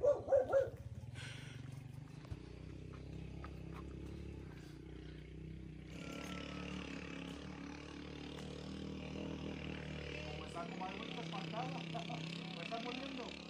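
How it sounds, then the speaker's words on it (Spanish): A dog barks a few quick, loud times right at the start near Presa de Palmillas, Rioverde, then a steady vehicle engine rumble takes over with people talking underneath. "No muerde el perro, don Gorrira"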